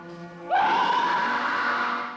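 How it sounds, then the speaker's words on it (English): An actress lets out a long, loud, real scream for the werewolf horror film The Howling, rising sharply and holding with a wavering, anguished pitch for over a second and a half. "That's my real scream."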